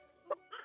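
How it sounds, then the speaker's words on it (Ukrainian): Two short yips from a dog among a group of about twenty rescued dogs, a sharp bark followed by a longer whimpering yelp, fairly faint and close, with no one talking. "Оце собачки у нас, отам, і у кожної двірки собачки."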